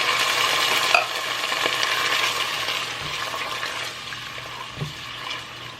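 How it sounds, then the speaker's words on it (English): Half a cup of water poured into a simmering Caribbean fish and meat sauce on the stove, giving a bright watery splash and sizzle that eases into a softer bubbling simmer. "Our next ingredient is water. I'm adding 1/2 cup for now."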